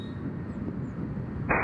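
An airplane approaches Nashville International Airport in the distance, a low, steady engine rumble that holds evenly through the short stretch, with a brighter burst of noise at the very end.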